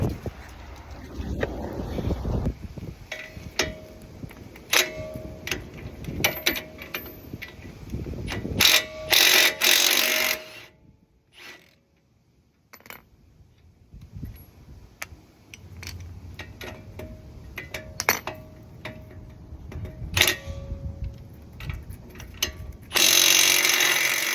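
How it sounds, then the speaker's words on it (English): A tool removes bolts from the front end of a Ford Explorer, with a long run of close ratcheting clicks, brief whirring bursts and metallic clanks, and a short quiet gap partway through. "we've got to take these two bolts out."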